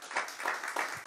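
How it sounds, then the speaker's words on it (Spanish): Brief burst of applause from a church congregation during a sermon, with rhythmic clapping in pulses, moderately loud and fairly close. "Dale un fuerte aplauso, por lo menos eso, al Señor."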